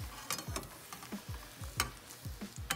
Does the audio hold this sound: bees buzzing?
no